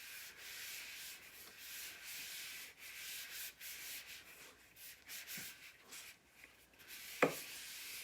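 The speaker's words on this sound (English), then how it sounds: "So I'm just going to rub some of this wax on here." Thin wax is rubbed by hand over a chalk transfer on a repurposed globe, a soft, steady, faint scrubbing that runs throughout and ends with one sharp little tap.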